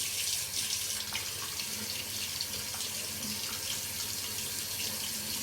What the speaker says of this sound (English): That is the first time I've ever had hot water come out of this faucet